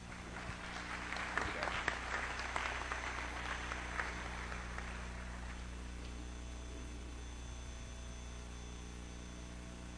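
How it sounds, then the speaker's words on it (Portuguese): An audience at a lecture on Darwinism gives a round of applause to welcome a speaker, a broad clapping wash that swells early and then fades into a steady hum with low mechanical drone beneath. "Vamos recebê-lo com a salva de palmas."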